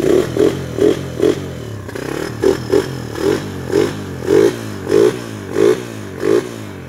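A stock 2019 motorcycle engine is revved in short, even blips, about a dozen throttle bursts rising over a low idle. The bursts come close together and sound loud and near, with no talking.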